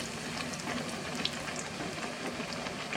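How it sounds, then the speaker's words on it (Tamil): Bread pockets fry in hot oil in a home kitchen, giving a steady, dense sizzle with faint bubbling pops throughout, close and alone without speech. "ஃப்ரை பண்ணுறேன் பாருங்கள்."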